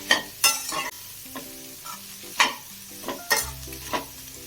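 Vegetables for restaurant-style chicken fried rice sauté over high flame in a pan, a soft sizzle punctuated by several loud scraping stirs and clinks of the spoon at uneven intervals.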